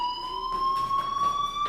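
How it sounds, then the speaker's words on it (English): A steady electronic fire alarm tone rings continuously in the Life is Strange video game, a high sustained beep with faint rhythmic pulsing, moderately loud and alone. "do you hear that fire alarm?"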